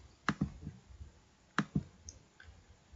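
Two paired keyboard clicks for copy and paste shortcuts, close and crisp, each pair a quick double tap separated by a short pause, followed by a faint lighter click over low background hiss.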